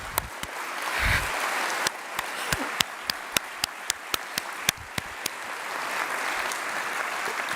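An indoor audience gives a sustained round of applause at an honors convocation for AP Calculus students and their parents, with a few sharp, loud individual claps standing out.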